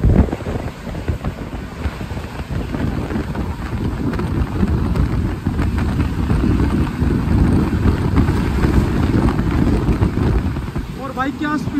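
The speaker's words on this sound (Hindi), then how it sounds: "बारिश आ रही है बाहर," Rain falling outside a fast-moving Tamil Nadu Express passenger train, a dense continuous wash of noise blended with the loud rumble and rush of the carriage at speed, without a break throughout.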